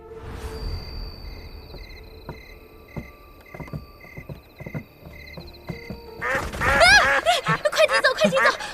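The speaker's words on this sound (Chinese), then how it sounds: "我在陶艺家门口的河边看见了几只鸭子" Several ducks quack by a riverside: a quieter stretch of sparse calls over a steady background tone, then a loud, dense burst of overlapping quacks near the end.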